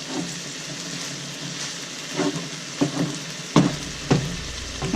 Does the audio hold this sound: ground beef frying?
yes